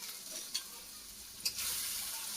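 A ground paste of ginger, garlic and cumin fries in a pan with a soft, even hiss, marked by two quick stirring clacks before the sizzle swells slightly.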